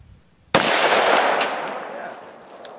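A single sharp 10mm handgun shot is fired at a watermelon outdoors. The crack is loud and close, and a long echoing tail fades slowly. No one speaks.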